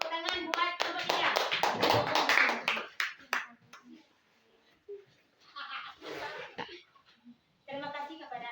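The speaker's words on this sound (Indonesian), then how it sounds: "Tepuk tangan buat kelompok 3." A school class breaks into dense applause for group 3 after a presentation, about three seconds of close, lively clapping, followed by scattered voices and children talking.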